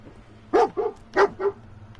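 Dogmeat, the dog companion in Fallout 4, gives four quick barks in two pairs, close and fairly loud over a quiet background.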